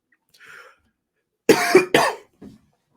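A faint throat noise, then two sharp, close coughs in quick succession, followed by a soft trailing sound in an otherwise quiet room.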